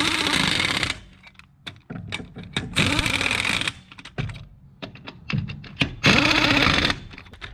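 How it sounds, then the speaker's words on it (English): An impact gun rattles on car lug nuts in three loud, long bursts of hammering, separated by quieter clicks and clunks of handling, close up with no talk. "once you've got them all started by hand, then you can have at it with your gun if you want"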